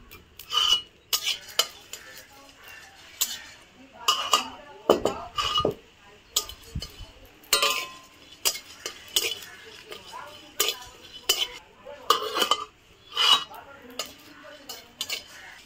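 Whole cardamom, cinnamon, cloves and dried chillies being dry-roasted and stirred in a pan, a series of sharp scraping and clinking strokes in an uneven rhythm with faint sizzling between them.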